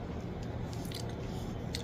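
Crunchy chewing of cereal with milk, close, moist crunches and squishy bites in a brief, steady run with no talk.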